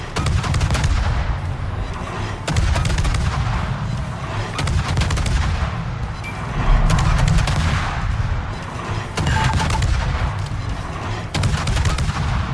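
Main guns of an Akizuki destroyer fire in a naval battle game, a loud, dense barrage of repeated booming shots at roughly two-second intervals over a constant rumbling background.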